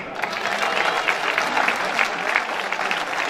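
Enthusiastic crowd applause at an evening carnival gathering in Ozegna, Italy, close and steady clapping sustained throughout, with faint voices mixed in.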